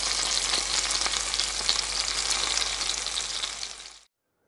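Homemade meat patties frying in a pan, a dense, steady sizzle and crackle with small popping spatters, close and fairly loud, running continuously for about four seconds before cutting off abruptly.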